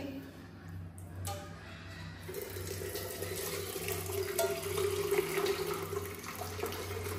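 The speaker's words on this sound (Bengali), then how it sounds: "এখানে আমি জগের মধ্যে দুধটাকে আগে ছেঁকে নিচ্ছি।" Milk strained through a sieve and poured into a jug in a home kitchen, a steady liquid trickle and splash running for several seconds, growing fuller partway through and close by.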